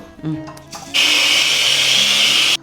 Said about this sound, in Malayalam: അരി ഫുള്ള് അരച്ചെടുത്തോട്ടെ.